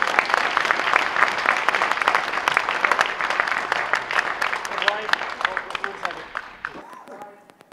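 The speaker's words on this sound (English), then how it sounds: "can we get one more round of applause?" A conference crowd at Skepticon bursts into loud, dense applause from many hands that carries on steadily, with some voices rising near the end before the clapping abruptly dies away.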